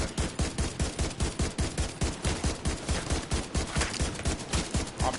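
Sustained automatic gunfire in The Division 2, a rapid, even stream of sharp shots about five per second that runs nonstop, loud and close, with no talking.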